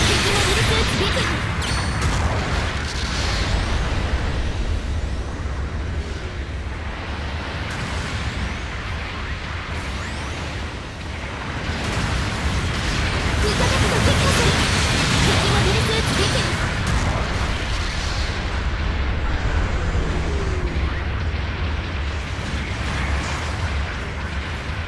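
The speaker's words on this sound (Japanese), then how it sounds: "後方部隊から支援砲撃が来ます。" Support artillery bombardment in the game Gundam Battle Operation 2: a long, loud barrage of rumbling explosions and crashes with continuous blasts, and a voice speaking over it.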